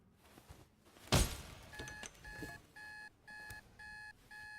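An alarm goes off in The Raven video game after a loud crash, then repeats as a steady series of regular electronic beeps, fairly loud and alone without talk.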